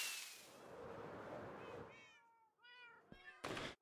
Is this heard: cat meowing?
yes